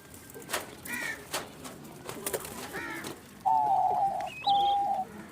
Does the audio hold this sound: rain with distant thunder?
no